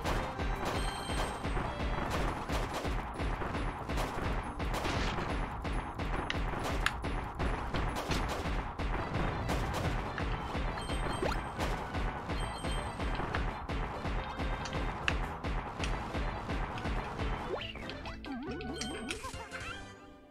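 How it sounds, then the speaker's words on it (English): Fireworks bursting in the video game Kirby's Return to Dream Land Deluxe, a dense, continuous run of crackling pops and bright tinkling bangs at steady loudness, fading out near the end. "Fireworks!"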